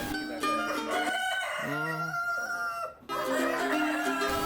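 KUB chickens cluck in a busy backyard flock while a rooster crows nearby in a clear rising call midway, loud and close.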